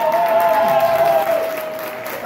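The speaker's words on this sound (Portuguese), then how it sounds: "eu peço mais uma vez, eu sei que vocês gostam, de dar este aplauso" A crowd at a samba school event applauds and cheers for three drum-section godmother candidates, a dense sustained roar of clapping with a shrill whistle-like tone running through it.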